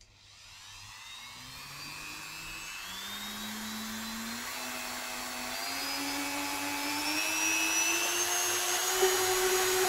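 A BioSpec Tissue Tearor homogenizer probe, rated to 35,000 RPM, spins up with a high motor whine that climbs steadily in pitch and loudness. It runs alone, with no talking.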